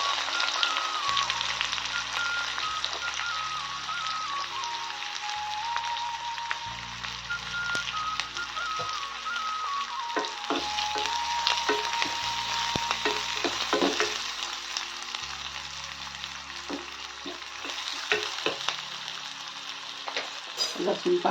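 Onion sizzling and frying in hot oil with mustard seeds and cumin for a spiny gourd vegetable dish, a steady loud crackle throughout with occasional stirring clinks and no talking.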